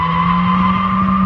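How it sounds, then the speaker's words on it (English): A Toyota Camry drifts at very high speed, its tires skidding in a loud, steady squeal that holds unbroken until cutting off abruptly at the end. "take a look at this guy drifting a Toyota Camry at very high speeds"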